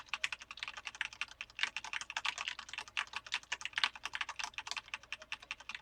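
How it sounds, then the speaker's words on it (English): Computer keys are mashed rapidly while playing the 1991 Nintendo Star Wars game, giving a dense, uneven stream of plastic clicks and clacks in quick bursts, fairly quiet and close, with no voices. "Mashing multiple keys actually seems to help though."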